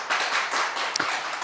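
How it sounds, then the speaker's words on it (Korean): Sparse clapping from a small audience after a lecture, light rhythmic hand claps with one sharper slap near the end, fairly quiet and close. "이 강의 이렇게 준비하시고 해주시느라고 헌신해 주시고 수고해 주신 우리 원장님께 한번 큰 박수 한번 보내주시면 좋겠습니다"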